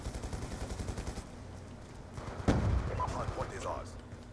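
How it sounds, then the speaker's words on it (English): A grenade blast in a Black Ops 2 multiplayer match, a single sharp explosion rising out of quieter gunfire, with a player's voice talking over the game audio. "I can just, like, throw a grenade in that direction"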